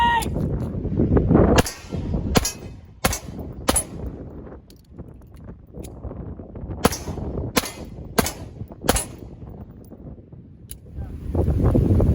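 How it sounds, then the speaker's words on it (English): Strong wind buffets the microphone, producing a continuous low rumble broken by sharp thumping gusts throughout. "Fucking windy!"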